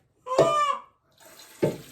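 Water runs from a tap in two short bursts, a steady splashing flow for washing a rooster at home, fairly faint and close.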